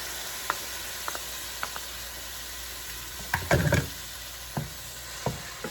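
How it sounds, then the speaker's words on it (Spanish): Tomato and onion sauté in a pan for Salvadoran shredded beef, making a soft, steady hiss with scattered light utensil clicks and a brief louder burst of scraping midway. "Vamos también a agregar el tomate acá junto con la cebolla."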